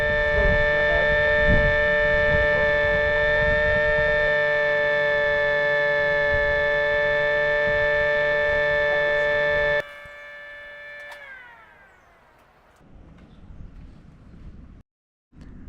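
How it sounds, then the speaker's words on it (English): A miniature SD-10 siren tested outdoors at noon holds a steady, loud wailing tone for about ten seconds, then winds down and fades out, with faint outdoor noise and wind after it. "That was a quick test of my miniature SD-10 Siren."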